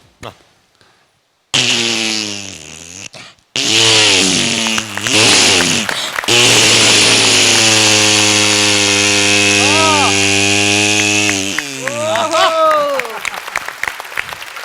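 A voice imitates an electric drill: loud, sustained buzzing whines that rise and dip in pitch, with a short pause before the drone resumes.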